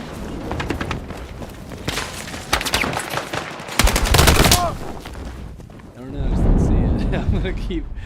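Battlefield 6 gunfire, with repeated bursts of automatic rifle shots and booming impacts in shifting intensity, with game noise and a player talking over it.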